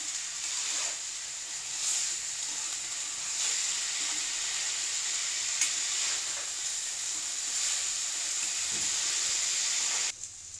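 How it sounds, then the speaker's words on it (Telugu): Pre-boiled cauliflower frying in a pan with spices, a steady bright sizzle and hiss throughout with faint stirring scrapes, close and without talk. "మనం ముందుగా ఉడికించుకున్న క్యాలీఫ్లవర్ని వేసుకోవాలి వీటిని మొత్తం కలుపుకుని రెండు మూడు నిమిషాలు వేయించుకోవాలి"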